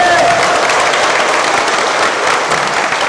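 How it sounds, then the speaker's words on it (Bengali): A large crowd at an outdoor gathering where fertilizer and seeds are distributed to farmers in Araihazar claps loudly for the Prime Minister, a dense continuous wash of applause close by with scattered voices mixed in. "আমি মাননীয় প্রধানমন্ত্রীর জন্য জোরে একটি হাততালি চাই আপনাদের কাছে।"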